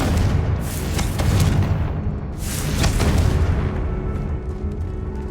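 Confringo fire-spell blasts in Hogwarts Legacy, a string of dense, rumbling booms that swell and fade across the span, loud and close with no talk over them.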